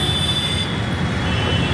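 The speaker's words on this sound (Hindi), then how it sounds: "और ये सामने आपकी मेट्रो है, ये आप देख सकते हैं।" A metro train rolls along the tracks beside a city road, a dense, continuous rumble with a steady high squeal from the wheels, loud and close throughout.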